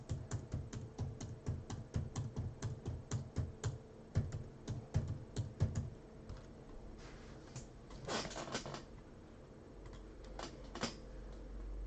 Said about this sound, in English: I'm just going to be typing in 1 through 12.